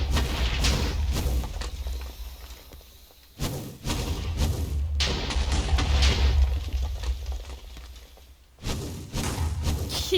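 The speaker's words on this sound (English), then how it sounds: "What's up with the sudden decision to just chuck mortars?" Mortar explosions during a Minecraft mob battle between a Twilight Hydra and Greek Hydras: repeated heavy booming thuds and blasts over a deep continuous rumble, loud and close, with brief dips between bursts and no talking.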